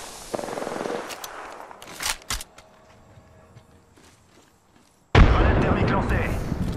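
Gunfire in the online shooter Apex Legends: brief clusters of shots early on, then a loud, sustained burst of automatic fire that carries through to the end.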